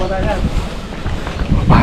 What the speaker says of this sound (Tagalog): Ang lakas ng hangin mga gila.